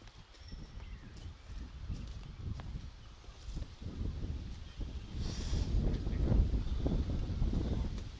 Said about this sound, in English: Feels a bit breezy.